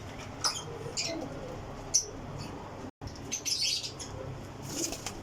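Flying pigeons flap their wings in quick bursts, with soft chirps and rustles close by against a quiet background.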